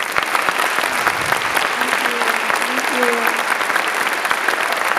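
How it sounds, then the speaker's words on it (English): Sustained round of audience applause for a guest speaker at an evening lecture event, a thick, continuous wash of clapping from a large crowd, with a few faint voices and scattered sharper claps standing out. "let's give a round of applause for Dr. Eger."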